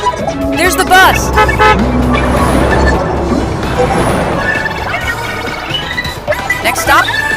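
An animated bus pulls up with a cartoonish horn toot and engine and traffic effects, loud and busy, while voices talk over it.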